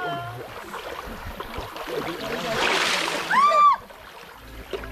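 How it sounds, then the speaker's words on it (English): Water splashing beside the shipwreck on Fraser Island, with a few scattered splashes and one louder, brief surge near the end. It sits under outdoor ambience with faint voices. "why are you splashing me?"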